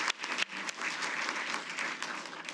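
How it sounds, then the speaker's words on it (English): An audience in an event hall applauds the staff who worked front and back of house, a steady wash of clapping that is fairly soft and even over a few seconds. "let's give them a round of applause."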